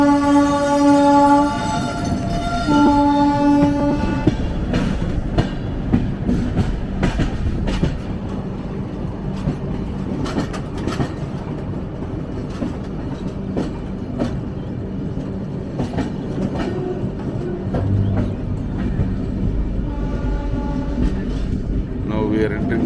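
Train crossing the Krishna railway bridge at Vijayawada, a sustained rolling rumble with clickety-clack over the rails and someone talking over it, with brief tonal sounds near the start.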